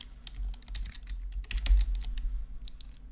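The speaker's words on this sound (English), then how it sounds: "So we'll just type in," Fingers type on a computer keyboard at a steady pace, a close run of light clicking keystrokes over a low background hum.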